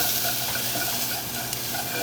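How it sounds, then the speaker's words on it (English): Garlic and lemongrass sizzle in a hot pan as they are stirred together, a steady dense crackle throughout with a brief scrape near the end, close and fairly loud with no voices. "I also add 2 tablespoons of lemongrass and mix it up"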